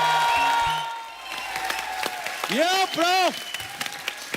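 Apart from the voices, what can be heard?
studio audience applause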